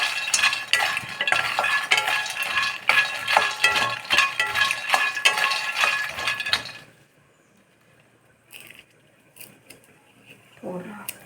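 Makhana (fox nuts) roasting in a pan, with rapid clinking and rattling as a utensil stirs them for about seven seconds, followed by near quiet and a few faint knocks.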